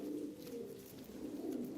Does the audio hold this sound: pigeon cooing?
yes